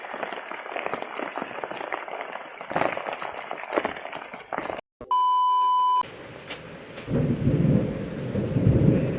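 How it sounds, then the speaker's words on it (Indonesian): Rain patters steadily with low thunder rumbles at a lake during a fishing outing. Partway through, a steady electronic beep tone briefly cuts in before the heavier downpour and rumbling return. "hujan bray, kita udah hujanan tuh"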